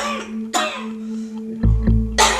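Two dry, hacking coughs from an older person with a persistent non-cold cough and breathlessness, each a short harsh burst, close and fairly loud, with low thumps in between.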